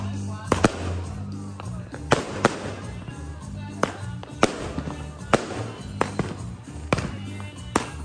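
A 100-shot salute firework cake fires a rapid run of sharp, loud reports, about a dozen clear bangs over eight seconds with crackle and outdoor chatter between them at a Fourth of July block party.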